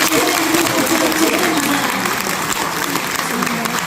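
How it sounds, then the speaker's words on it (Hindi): An audience at a mushaira poetry recital breaks into dense, continuous applause that stays loud from start to finish, with voices mixed into the clapping. "एक बार जोरदार तालियां"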